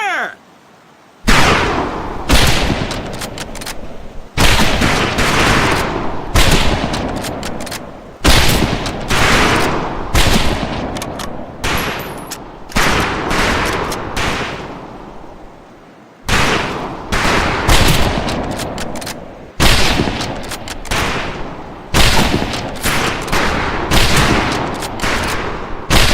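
Rifle fire at firing range targets in Medal of Honor Pacific Assault, loud sharp shots in rapid volleys with short pauses, repeating steadily and close, some overlapping in clusters.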